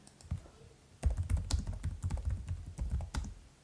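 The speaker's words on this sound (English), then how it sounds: "Don't you hate that you start typing" Fast typing on a computer keyboard, close and crisp, with a few isolated key clicks followed by a dense run of rapid clacking and no voices.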